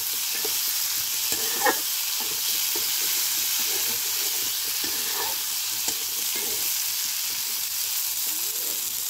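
Fish fries in a pan with a constant, close hiss of hot oil, broken by a few soft clinks and stirring touches, and no talk.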